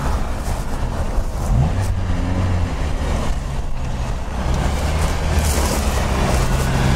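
Renault Duster engine runs on rollers with a steady, loud, close drone, the pitch rising slightly as it drives on without pause.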